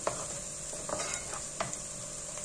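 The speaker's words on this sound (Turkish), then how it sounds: "Biraz da salçayı kavuralım." Tomato and pepper paste sizzles softly in a hot pan while a utensil scrapes and stirs it a few times, close up with no talking.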